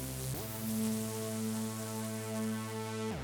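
An Elektron Syntakt synthesizer with noise modulation holds a sustained buzzing tone wrapped in a bright hiss that sounds like rain. The pitch glides up at the start and drops at the end.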